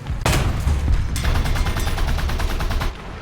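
Rapid automatic gunfire crackles from a Celere Sahariano in War Thunder, a dense, near, continuous stream of shots with a short pause and a second sustained burst.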